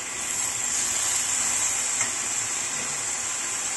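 A beef burger patty cooks slowly in a pan, giving off a steady, even sizzle and hiss that holds at the same moderate level throughout with no voices.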